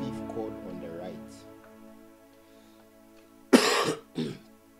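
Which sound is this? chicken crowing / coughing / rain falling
coughing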